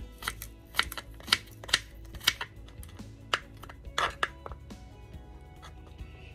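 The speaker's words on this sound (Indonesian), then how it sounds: "sekarang saya mau potong-potong ini bawang putih" Garlic cloves being chopped with a knife on a cutting board, a series of sharp, irregular taps close by, spaced unevenly with brief pauses, over quiet room noise.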